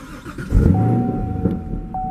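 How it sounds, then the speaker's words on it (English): A 2018 Chevrolet Camaro SS 1LE V8 fires up, with a loud low rumble swelling after a brief crank and settling into a steady, throaty idle, close to the car with a faint high whine running through it. "We'll go ahead and cut the car on again."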